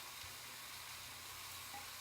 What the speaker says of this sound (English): It will steam, it is still hot.